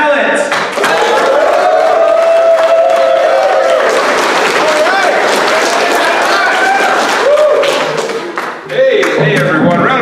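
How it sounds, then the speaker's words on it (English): An audience at a USO comedy show for troops at a military training area applauds and cheers for a comedian coming on stage, with loud, sustained clapping and whoops and voices in the crowd. "Put your hands together right now for Sam Tallent."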